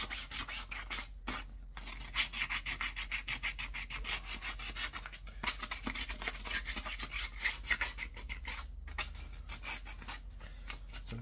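Light hand sanding of a painted car surface gives continuous rhythmic rubbing and scraping strokes, close and fairly loud, with short pauses between passes.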